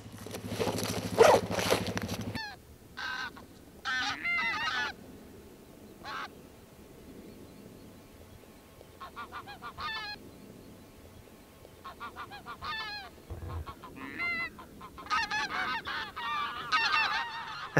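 Wild geese honk over decoy-set fields near hunting blinds in Orkney, repeated calls from a flock at a middle distance, bunched in bursts with quiet stretches of breeze between.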